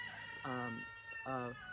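Rooster crowing on a backyard chicken farm, two harmonic crow calls in quick succession, close and clear over a faint background hum.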